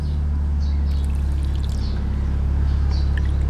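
Water poured into a mixture of vinegar and two tablespoons of sugar in a cooking pot for adobo flakes, a steady loud pouring wash lasting throughout with no talk.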